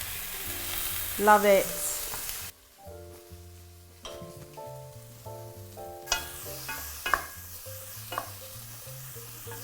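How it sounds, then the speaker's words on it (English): Colourful peppers sizzle steadily in a hot frying pan while being stirred, with background music and a brief spoken comment. "We get that lovely, lovely sizzle and all the colourful peppers."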